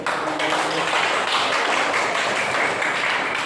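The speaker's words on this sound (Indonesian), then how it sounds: "kita tepuk tangan untuk" Group applause from a class at an Indonesian school lesson, a steady dense wash of many hands clapping together at close range, sustained evenly throughout with no voices over it.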